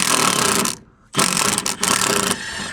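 A power driver runs on a bolt of a rental trailer in two loud, dense mechanical bursts split by a brief pause, with a ratcheting, grinding character and no talking.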